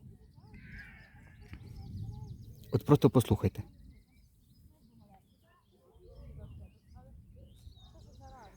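Birds chirp briefly and faintly in the background while people talk nearby, with a short burst of laughter in the middle.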